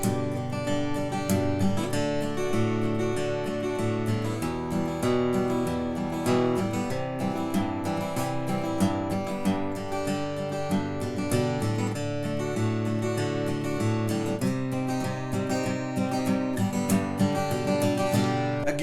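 The intro of a song is played on acoustic guitar with steady, continuous picking and strumming throughout, close and full with no voice over it.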